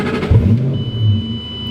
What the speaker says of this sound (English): Oh, engine start. I turned the ignition.